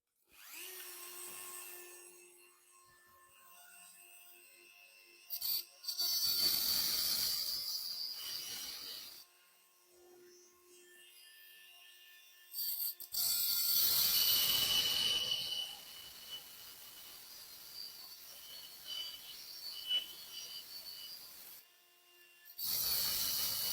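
Rotary engraver fitted with a cheap Chinese diamond cutting disc grinding into tile, a high whining motor with several rough, harsh cutting bursts between quieter stretches of spinning.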